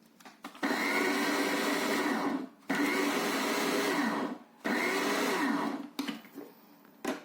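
A mixer grinder grinds ingredients for sura varuval in three long, loud, whirring bursts separated by brief pauses, close by.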